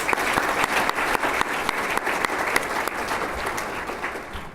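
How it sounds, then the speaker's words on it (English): Dinner guests at an annual foundation dinner applaud event sponsors, a steady, dense round of clapping filling the room at even loudness throughout, with sharper individual claps standing out now and then. "So another round of applause for them, please"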